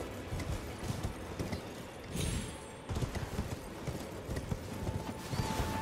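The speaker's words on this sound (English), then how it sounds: "I can pretty easily outrun him with this horse" A horse gallops steadily in Elden Ring, its hooves clip-clopping in a fast continuous rhythm over the game's ambient rumble.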